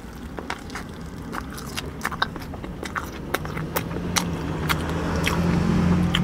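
Bites into a fried hot chicken sandwich with comeback sauce, giving repeated short crunchy crackles that turn into steady chewing, close to the mic, over a low background hum.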